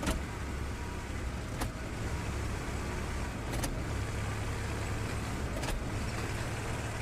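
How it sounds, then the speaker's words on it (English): A military truck drives in the World War II shooter Hell Let Loose, its engine a continuous loud rumble with road noise and a few brief clicks or knocks along the way. "they do show off some truck driving"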